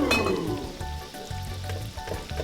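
Alcapurrias fry in a pan with hot oil, giving a steady, fairly quiet sizzle with faint crackles and small stirring sounds close by and no talking.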